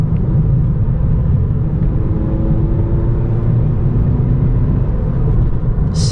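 A 9th gen Honda Civic Si fitted with a Ktuner v2, cruising after a downshift to fourth gear, with a steady, quiet engine hum and road rumble heard from inside the cabin.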